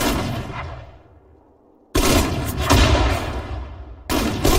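Sudden Strike 4 battle sounds: loud gunfire and artillery blasts, two heavy bursts of firing with a fading tail between them, close and dense, with no talk.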